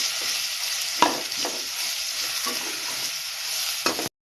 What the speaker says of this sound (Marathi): हे वाटण चांगलं परतून घ्यायचंय